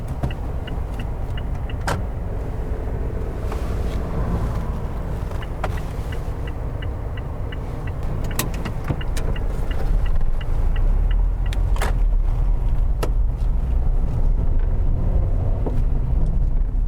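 A car pulls away during a mock driving test, with a steady low engine and road rumble heard from inside the cabin that grows slightly louder partway through, plus occasional clicks and light rattles.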